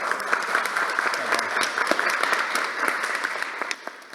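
An audience applauds at the close of a scientific conference session, a dense, steady patter of many hands clapping fairly close, tapering slightly near the end.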